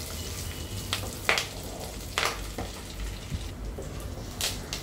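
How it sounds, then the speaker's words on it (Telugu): Tempering spices sizzling in hot oil in a pan for dal fry, a steady close crackle with a few sharper pops and stirring clinks scattered through. "తాలింపు బాగా వేపండి"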